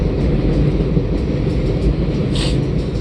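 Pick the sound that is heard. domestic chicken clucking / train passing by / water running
train passing by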